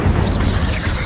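Incendio fire spell cast in the Hogwarts Legacy video game, a brief loud booming burst with a low, rumbling whoosh that fills the moment without any talk.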